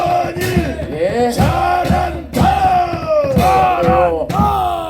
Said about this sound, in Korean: 큰 박수 한번 해주세요.